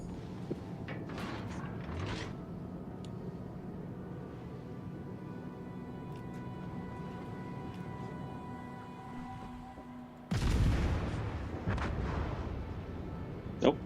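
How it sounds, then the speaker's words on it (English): Main guns of a warship firing in the naval combat game World of Warships: Legends: a run of booming shots in busy battle noise, with a louder burst of gunfire near the end. "I hit it with a torpedo. I hit it with a lot of little main guns."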